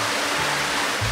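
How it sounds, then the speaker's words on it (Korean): Steady broadband rush of Deungseon waterfall, the second falls, cascading inside a large rock gorge on Samaksan in Chuncheon, heard close and continuous with no voices over it. "여기가 등산 제2폭포인데요."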